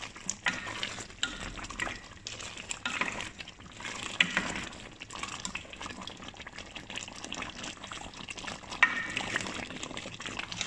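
Butter chicken sauce being stirred in a pan, a steady close scraping and swishing of a utensil through thick liquid with faint sizzling, continuous and fairly quiet, with no talk.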